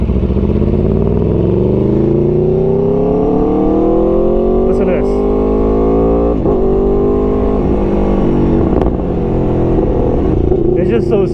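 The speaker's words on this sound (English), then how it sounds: "look how smooth the quick shifter is" A 2018 Aprilia Tuono V4 Factory motorcycle in race mode accelerates hard, the engine note climbing steadily and dropping briefly at quick-shifter gear changes before rising again, loud and close throughout.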